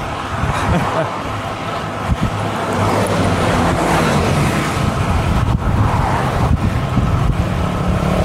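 Strong wind buffets the microphone in a steady roar while cycling along a flat old road, with traffic-like rumble underneath and brief bursts of talk.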